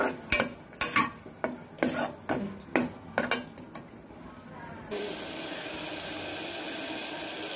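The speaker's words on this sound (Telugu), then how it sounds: "అల్లం వెల్లుల్లి పేస్ట్ వేసుకొని ఫ్రై చేసుకోవాలి" Ginger garlic paste frying in a pan for a festival curry, with a run of sharp stirring scrapes over the first five seconds, then a steady, even sizzle that holds to the end.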